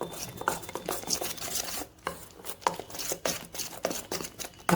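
Batter for katori chaat being beaten by hand or with a spoon in a bowl, a rapid, irregular run of wet slapping and scraping strokes, close and fairly loud with no talking.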